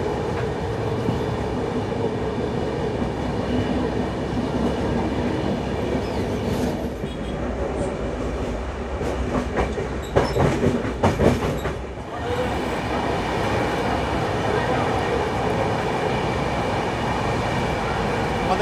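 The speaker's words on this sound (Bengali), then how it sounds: "আমাদের ট্রেন এখন মেচেদা স্টেশনকে স্কিপ করছে একদম দুর্দান্ত স্পিড নিয়ে" Heard from on board, the 12073 Howrah–Bhubaneswar Janshatabdi Express speeds past Mecheda station with a loud, constant rumble and wheel clatter, and a burst of sharper rattling midway.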